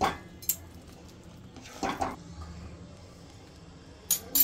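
Ragi rava upma being stirred in a pan, with a few sharp scrapes and clinks of a spoon against metal spaced apart, over a quiet background.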